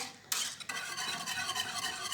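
Cheesecake cream mixture being stirred in a pot on the stove, a steady scraping and swishing of a utensil against the pot that runs continuously and close up, with faint sizzle-like background and no talking.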